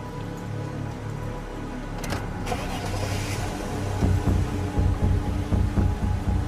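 A car drives off: a steady engine rumble and road noise that swell and grow choppier as it pulls away, with no voices.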